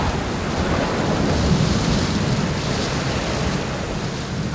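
Steady heavy rain with rolling thunder, a dense continuous downpour roar at even loudness throughout, no voices.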